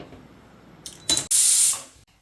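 A pressure cooker cooking mutton biryani: a brief puff followed by a loud, sharp hiss of steam jetting out of the whistle for under a second, then quickly cutting off.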